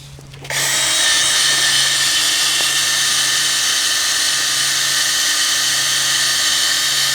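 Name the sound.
wire brush removing rust from brake rotor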